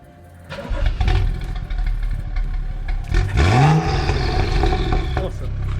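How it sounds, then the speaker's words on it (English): A tuned BMW engine cold starts with a cranking whine that catches into a loud rev, then settles to a steady, rumbling idle close to the microphone. "hopefully we can try and get a nice cold start on his 55"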